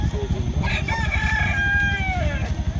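A fighting rooster crows loudly nearby at a gamecock market, one long rising and falling call over a low rumbling background.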